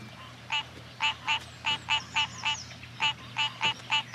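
Tree frogs call in a series of short, evenly spaced croaks, about a dozen across a few seconds, close and clear over a low steady background hum.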